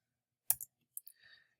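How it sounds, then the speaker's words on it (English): Single Delete key press on a computer keyboard, a faint close click followed by a few light clicks of desk or mouse handling, quiet and brief. "hit the Delete key on the keyboard"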